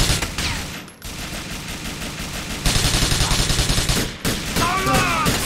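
Gunfire in Grand Theft Auto 4 gameplay: loud, close bursts of rapid automatic shots and single cracks in quick succession, with brief pauses between volleys.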